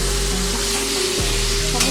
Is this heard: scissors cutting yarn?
no